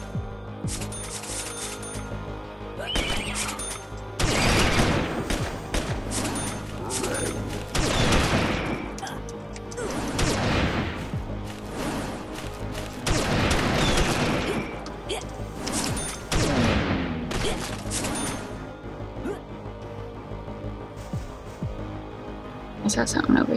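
Endless rapid gunfire from a zombie-shooting video game, dense bursts of shots rolling on loudly with hums and booms beneath, while a person talks over the action throughout.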